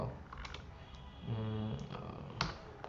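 Light, scattered key taps on a computer keyboard, faint and irregular, with a brief tonal hum in the middle and no talk.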